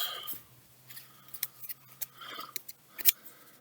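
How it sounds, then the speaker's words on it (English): A tarot deck is shuffled and cut by hand, producing quiet riffling cards and sharp snapping clicks at irregular intervals, close and otherwise quiet. "So with a little shuffle here and a cut, I'll pull one card out."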